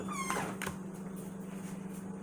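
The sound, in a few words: dog whining in the background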